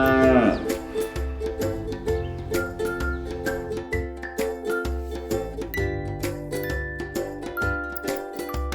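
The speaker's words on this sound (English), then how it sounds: "cow" A cow moos in repeated low, drawn-out calls over background music with chiming bell-like tones.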